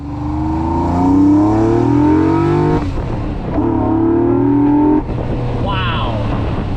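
A Land Rover Defender with a swapped-in Corvette V8 roars as it accelerates hard, the pitch climbing through two gear changes, loud and close.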